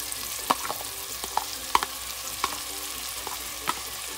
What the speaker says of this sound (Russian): Обжариваем. Так, лук с чесночком обжарили. Теперь добавляем сюда чечевицу.